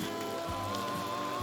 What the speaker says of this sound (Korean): 이렇게 비가 오는 날은 또 운치가 있고